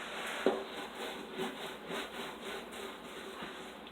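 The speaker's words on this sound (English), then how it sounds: "Rub the butter real good on the pan." Butter is rubbed onto a baking pan to grease it, giving a close, soft scraping and smearing with a rhythmic back-and-forth rub and a small knock near the start.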